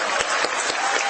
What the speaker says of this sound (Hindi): विक्रम लैंडर के चांद की सतह को सफलतापूर्वक छूते ही बेंगलुरु के इसरो हेडक्वार्टर में तालियों की गड़गड़ाहट गूंजने लगी